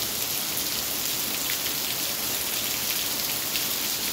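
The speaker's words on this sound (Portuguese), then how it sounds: "A chuva aqui hoje em Maniçoba, bastante grossa. Tá caindo com força mesmo aí" Heavy, thick rain pours steadily on a night in Maniçoba in the Brazilian sertão, a dense, even hiss of drops striking the ground and surfaces, continuous and close with no voices.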